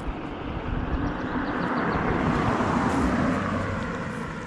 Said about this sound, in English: there's a car, noisy car